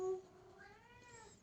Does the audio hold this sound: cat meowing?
yes